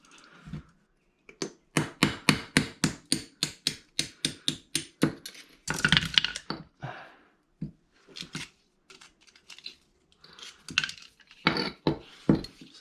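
Hammer blows knock out the stock U-joints from a Jeep JK axle: a rapid run of about a dozen sharp, ringing metal strikes, then a pause and more scattered clanks and taps up close.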